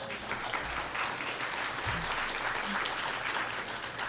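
Audience at a creek and watershed symposium breaks into applause, a dense, even wash of clapping that holds steady at moderate loudness for about four seconds.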